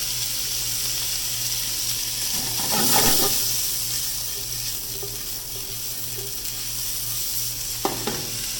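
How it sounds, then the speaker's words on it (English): Sausage sizzles steadily in a pan, a constant frying hiss with a low hum underneath and a few brief stirring scrapes, no talk. "in the same pan, you're going to cook your sausage"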